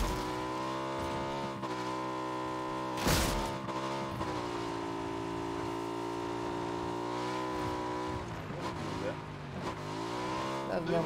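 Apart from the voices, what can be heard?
motorbike engine in PUBG video game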